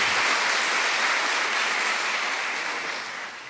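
A church congregation applauds for several seconds, a dense, steady wash of clapping that fades slightly toward the end.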